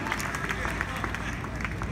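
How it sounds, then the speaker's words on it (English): Audience applause and crowd clapping at a live music performance, dense and continuous with a babble of voices mixed in throughout the short stretch. "give Bill a nice round of applause"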